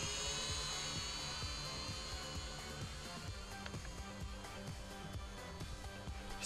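Drone propellers spin right beside the recorder, giving a loud, steady high-pitched whine with a rapid buzzing flutter that continues without a break.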